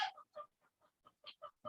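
Chickens clucking close by in a series of short, separate calls with small gaps between them, quiet overall and heard alone.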